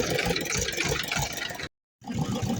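A tractor engine runs steadily nearby in a rural forest-edge setting, a loud continuous rumble with rattling, broken by a brief total dropout before resuming.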